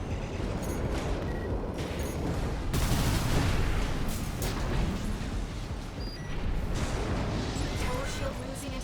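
Sniper fire in Armored Core 6 booms amid a dense, continuous wash of battle noise, with heavy low rumble throughout and a sharp burst near the three-second mark; voices can be heard speaking over the combat.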